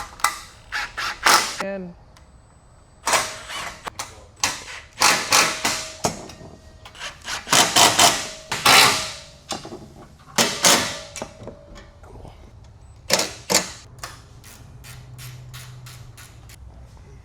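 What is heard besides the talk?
tightening roof rack bolts and mounts on Can-Am Defender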